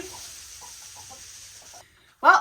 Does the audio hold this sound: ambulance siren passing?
no